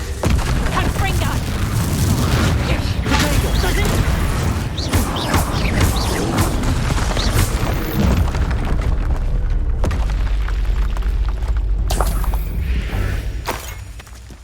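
Confringo fire spells exploding in combat in the Hogwarts Legacy video game, a dense run of loud booms and crackling blasts with battle effects, continuous and intense throughout, with voices mixed in.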